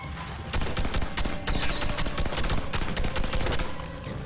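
Rapid bursts of gunfire from a weapon in the video game Red Faction Armageddon, loud and dense, with sharp repeated shots sustained throughout amid combat noise.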